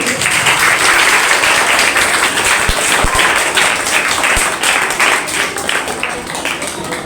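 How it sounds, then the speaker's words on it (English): Applause fills a debate competition hall, a dense, loud wash of many hands clapping that runs throughout and only slowly thins toward the end. "Clap for Naveen."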